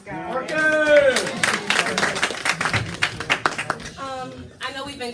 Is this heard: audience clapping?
yes